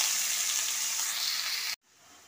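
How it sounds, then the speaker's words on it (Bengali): Sliced onions fry in hot oil with a broad, loud sizzling hiss up close that cuts off abruptly near the end, leaving quiet. "পেঁয়াজটা হাফ ভাজা হয়ে গেছে"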